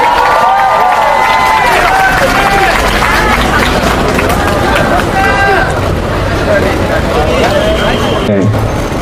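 A loud outdoor crowd at a candlelight protest rally claps and cheers to welcome a performer, with voices and a continuous babble mixed into the applause throughout.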